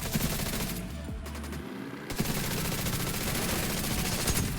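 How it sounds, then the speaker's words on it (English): Rapid automatic turret gunfire in The Division 2, a dense, continuous rattle of shots heard close, dropping out briefly around the second second before resuming at full intensity. "Throw out my turret. My turret is automatically at tier 6 as well."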